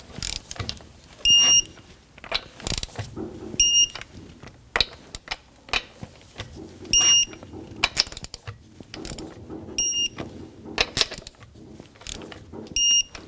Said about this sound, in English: Now you can put your car on the ground and torque it to factory specs.